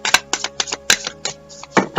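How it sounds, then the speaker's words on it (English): A deck of oracle cards is shuffled by hand, with a rapid series of close, crisp riffling and slapping bursts at an uneven rhythm, with no talking. "So let me grab the cards here and shuffle away."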